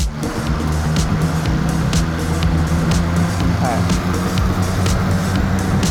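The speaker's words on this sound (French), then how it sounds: "on va se mettre en 3e et on va accélérer en même temps" Two cars accelerate hard side by side in third gear on a straight, with a loud, steady engine drone and road roar heard from inside the car, and voices talking over it.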